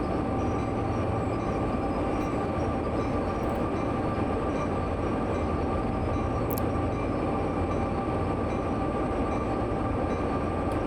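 A heavy intermodal freight train on Sherman Hill in the Train Sim World 2 game, a constant loud rumble of rolling wheels and locomotive drone with faint brake squeals, steady throughout.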